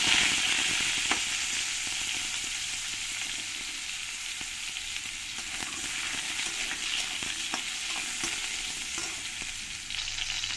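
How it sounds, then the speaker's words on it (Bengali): Cut potatoes fry in hot oil in a kadai, a loud, continuous sizzle with occasional stirring clicks, close and steady throughout, with no voices. "আলুগুলো আমি ভেজে নেব।"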